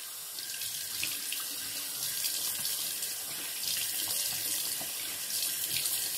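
A bathroom tap runs cold water while hands are washed, giving a steady, close hiss and splash with small fluctuations throughout. No voices are heard.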